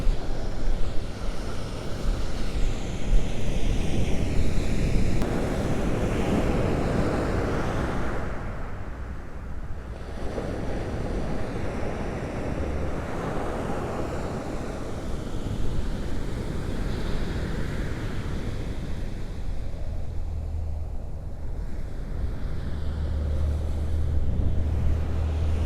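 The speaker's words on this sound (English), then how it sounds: "the ocean seems a lot tamer than it has been" Ocean surf rolling onto a beach, a steady wash of breaking waves with some wind noise on the microphone, continuous and fairly close with no talking.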